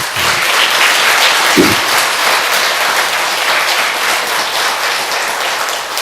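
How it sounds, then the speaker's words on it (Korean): A church congregation applauds steadily during a Thanksgiving service, sustained clapping filling the room at an even level for several seconds. "하나님께 감사하며 영광의 박수를 좀 돌려보내겠습니다"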